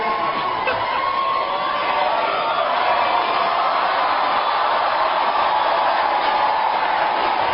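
A large crowd at a political rally roars and cheers, a dense continuous wall of shouting and whooping that stays loud throughout, heard without any distinct speech on top.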